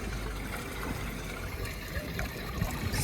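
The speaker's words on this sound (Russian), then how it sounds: "Она прямо вот здесь вот по стенке вон вода бежит вообще, смотри" Clear water runs down a wall outdoors, a steady, soft rushing trickle that holds constant throughout with no talk over it.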